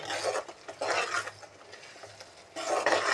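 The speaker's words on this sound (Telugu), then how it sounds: "ఈ పచ్చి కొబ్బరి కూడా వేసుకొని ఇందులో బాగా కలుపుకోవాలి" Fresh grated coconut is stirred and fried in a pan for a vanjaram fish curry: quiet, close scraping strokes come in bursts with brief pauses between them.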